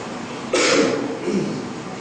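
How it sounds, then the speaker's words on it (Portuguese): A single harsh cough bursts out, followed by a softer second one, close to the microphone over low background noise. "essa tosse"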